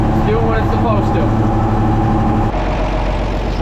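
A John Deere 7520 tractor engine runs steadily while working a tacky field, a loud, continuous low rumble throughout, with a voice talking over it.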